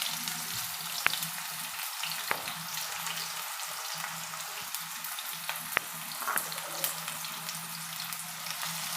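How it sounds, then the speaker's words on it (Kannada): Sliced onions sizzle steadily in hot oil, a continuous close frying hiss under a low hum, with a few sharp clicks of utensils against the pan. "ಇದು ಚೆನ್ನಾಗಿ ಗೋಲ್ಡನ್ ಕಲರ್ ಬರೋ ತನಕ ಎಣ್ಣೆಲಿ ಫ್ರೈ ಮಾಡ್ಕೋಬೇಕು."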